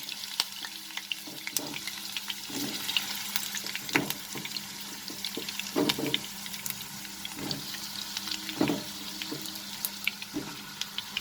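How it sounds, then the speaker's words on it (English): Potatoes frying in hot oil over a high flame, a steady crackling sizzle broken by occasional stirring scrapes and clinks close by, with no voices. "Fry these potatoes over high flame for 2 to 3 minutes so that it becomes a little bit golden in color."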